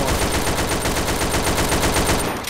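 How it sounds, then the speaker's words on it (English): A sustained, loud burst of rapid automatic gunfire in Garry's Mod roleplay, continuous and dense for the full stretch before tapering off at the very end. "Don't shoot me, scumbag."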